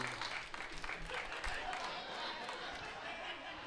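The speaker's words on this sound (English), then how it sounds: "Clap if you love somebody." A stand-up comedy crowd claps and cheers in a steady, fairly quiet burst of applause with scattered chatter, continuous through the short moment.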